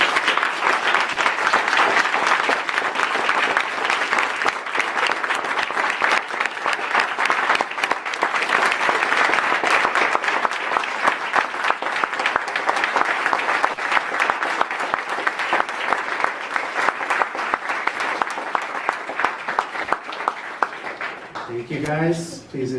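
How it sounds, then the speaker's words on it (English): Memorial audience giving a long round of applause, dense sustained clapping filling the room for about twenty seconds before tapering off, with a voice speaking briefly at the very end. "Let's give him one big round of applause"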